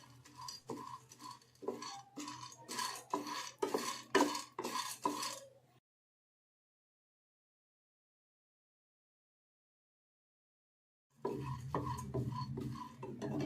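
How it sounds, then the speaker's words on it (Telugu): Sunflower seeds dry-roasted in a pan on low flame, giving a steady rattling, scraping stir for several seconds, then a long silent gap before the stirring resumes. "పొద్దుతిరుగుడు గింజలు వేసి వేయించుకోవాలి"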